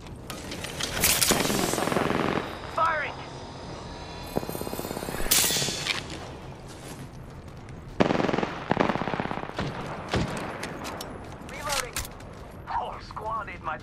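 Rapid automatic gunfire in a squad-based video game comes in long, loud bursts broken by short pauses, mixed with mechanical game effects while a player talks over the action.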